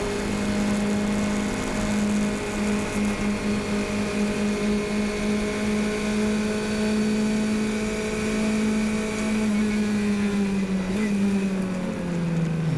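A race car at an SCCA regional race at Watkins Glen holds a steady, droning engine note from inside the car, a constant loud hum that shifts pitch slightly near the end.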